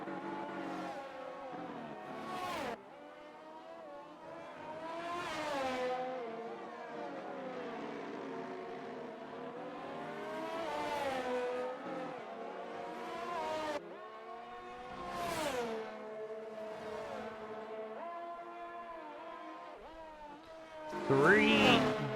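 Open-wheel race cars roar past one after another in a racing video game at the France Grand Prix during qualifying, engine pitches climbing and dropping with each pass, loud and close.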